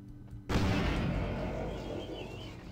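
A grenade blows up in Vampire The Masquerade - Bloodlines, a sudden heavy boom after a quiet moment that rolls on into a long, rumbling decay.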